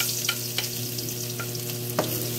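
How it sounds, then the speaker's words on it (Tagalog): Garlic fries in oil in a pan with a constant close sizzle, a few light stirring taps and a low steady hum underneath, and no talk. "naghita tayo ng oil sa ating kawali. And then we're going to put the garlic."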